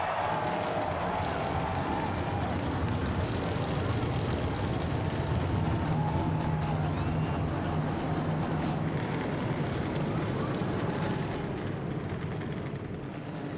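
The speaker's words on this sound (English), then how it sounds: "Gentlemen, start your engines." NASCAR stock car engines firing up at Martinsville Speedway, a broad roaring rumble from many engines heard over crowd and public-address ambience, steady and dense for the whole stretch.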